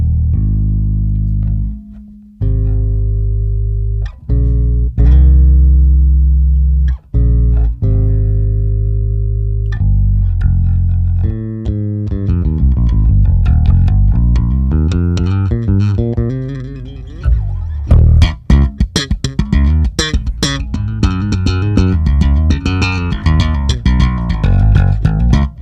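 A bass guitar plays deep sustained notes and short runs, close and loud, building into busier, distorted-sounding playing with effects.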